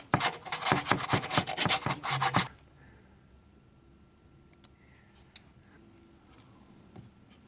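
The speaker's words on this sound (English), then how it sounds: "I think I'm going to grab a little piece of sandpaper and just kind of" Sandpaper scrubbed by hand over a thermostat housing seal surface on a Chevy Traverse, a quick series of loud rasping back-and-forth strokes for about two seconds, then near silence with faint ticks.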